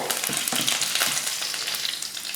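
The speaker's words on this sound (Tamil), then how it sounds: "எண்ணெய் காஞ்சதுமே கொஞ்சம் கடுகுளுந்து அடுத்து கொஞ்சம் கடலைப்பருப்பு" Mustard seeds and chana dal fry in hot oil, giving a loud, dense, continuous sizzle with rapid crackling pops, close up and with no talking.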